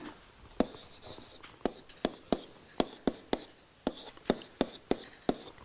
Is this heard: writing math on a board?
yes